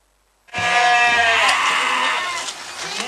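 Goats bleat on a livestock farm in Gading Rejo, Pringsewu, where a disease is paralysing the herd; one loud, close, sustained cry begins after a brief silence and wavers on to the end.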